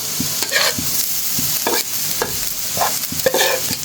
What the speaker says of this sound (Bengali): মাছগুলো দিয়ে একটু ভাজি করবো